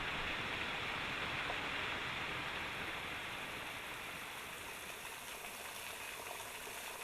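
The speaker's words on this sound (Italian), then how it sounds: "In 1000 rivoli l'acqua riempie torrenti e laghetti di montagna" Mountain streams of running water pour through rivulets into torrents and small lakes in the Apuan Alps, a dense, continuous rushing wash heard alone at moderate level throughout.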